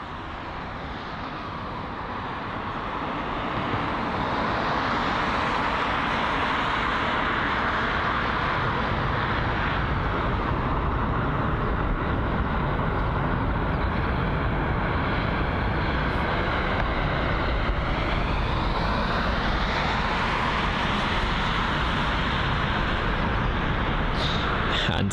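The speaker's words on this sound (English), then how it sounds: "this big boy, the King of the Skies Emirates A380, arriving from Dubai" Emirates Airbus A380 airliner arriving from Dubai to land at Heathrow, a loud, steady, broad jet roar that swells in the first few seconds and then holds close and powerful, with a shifting whine late on.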